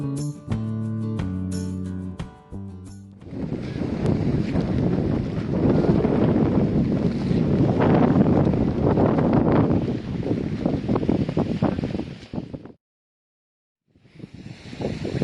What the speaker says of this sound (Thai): เช้านี้ก็ลมมาแรงมากนะครับ